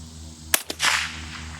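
Lever-action rifle being cycled to reload: two sharp metallic clacks in quick succession, then a longer sliding rasp of the action, fairly close and alone.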